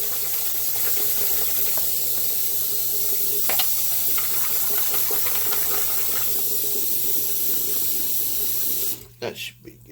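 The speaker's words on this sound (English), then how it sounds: "Get a little bit of sink of water running here." Lukewarm water runs from a sink tap, filling the basin with a steady, fairly close rush that cuts off near the end, leaving a few small handling sounds.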